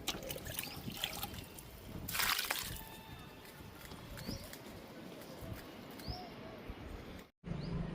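Homemade mulberry liquid fertilizer poured onto fruit plants outdoors, a continuous soft trickle and dribble of liquid with a louder splashing surge partway through and faint bird calls around.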